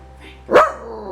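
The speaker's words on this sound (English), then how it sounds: "He sounds like a Rottweiler when he barks" A single loud, sharp bark from Frank, a small dog, cuts in close and sudden over a faint steady background hum.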